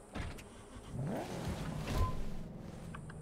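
A car drives in the video game Cyberpunk 2077, its engine rising and falling under a steady low hum, moderately loud with no voices.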